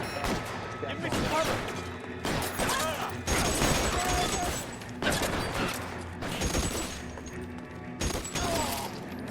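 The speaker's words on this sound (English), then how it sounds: "we got the Tommy gun now" Bursts of Tommy gun fire in a shooter video game, rattling volleys broken by short pauses and mechanical clatter, with other game sounds mixed in.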